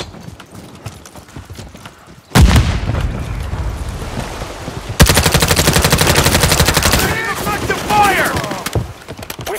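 A frag grenade goes off with a sudden heavy blast in Call of Duty Modern Warfare 3, followed by sustained rapid gunfire bursts and faint in-game voice callouts.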